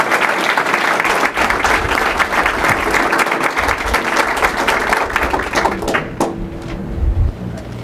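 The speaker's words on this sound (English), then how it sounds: "Give them a round of applause." Loud, sustained applause from a crowd at a Board of Education meeting, steady clapping throughout with a few shouts, tapering slightly near the end.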